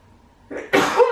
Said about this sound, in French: Ah pardon, j'ai éternué.